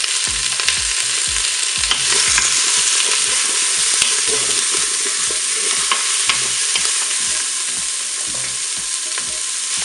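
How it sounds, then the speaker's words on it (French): Smoked sausages and Toulouse sausages browning in a Cookeo multicooker for a potée, a loud, continuous sizzle with frequent rhythmic scraping and stirring knocks. "on va commencer par mettre donc les saucisses fumées et les saucisses de Toulouse"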